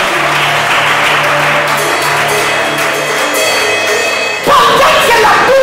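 Congregation at a church service applauding together, a steady dense wash of many hands clapping that swells louder near the end, with a low hum underneath.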